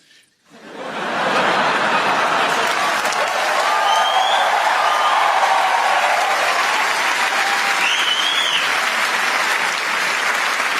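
A large audience breaks into loud, sustained applause that swells within a second and holds steady for about ten seconds, with scattered chuckles mixed in.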